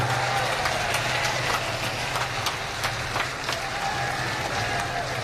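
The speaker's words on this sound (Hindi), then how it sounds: "दोनों हाथ उठा करके जोरदार ताली बजा करके माननीय बहन जी का स्वागत करने का काम करें" A large crowd at a BSP election rally in Basti claps steadily, a dense continuous patter of applause heard from within the gathering over a low hum.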